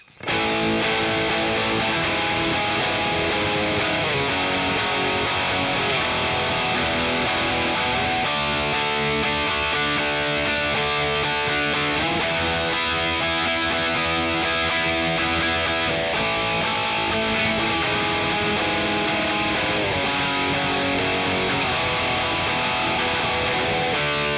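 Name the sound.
guitar playing final chorus of a song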